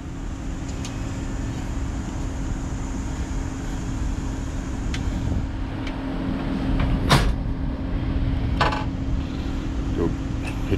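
A Ricon Clearway wheelchair lift deploying from a 2020 Ram ProMaster 7-passenger van gives a steady, low mechanical hum that holds throughout, broken by a few sharp clicks and clunks near the end.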